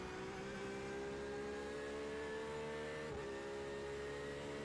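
A race car in the iRacing sim accelerates, its engine giving a steady, quiet droning whine with only a slight rise in pitch and no talk over it.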